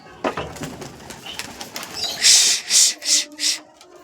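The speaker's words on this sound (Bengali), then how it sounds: "এখানে দুটো না দুটোর বেশি পায়রা আছে" Several pigeons at a home coop, with soft scattered calls early on, then four loud, evenly spaced whooshing bursts close by, like wings flapping.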